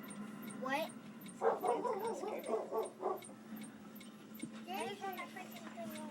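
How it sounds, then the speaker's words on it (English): Dogs indoors giving a yelping bark, then a run of whimpering yips and whines, close and fairly loud over a steady low hum, with excited voices in the room. "the dogs are tripping"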